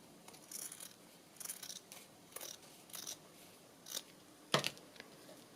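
Scissors trimming the top edge of an old ledger fabric tag: six or seven short, crisp snips spaced irregularly over a few seconds, close but faint, with the last cut sharpest and no talk.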